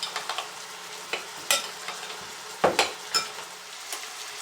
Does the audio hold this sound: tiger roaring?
no